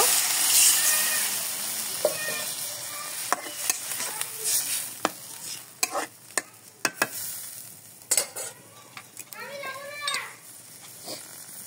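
Tomato, potato and flat beans sauté with fried spices in a pan for a rohu fish curry, giving a sizzling hiss and sharp, intermittent scrapes and clatters of stirring. A voice and children can be heard in the background.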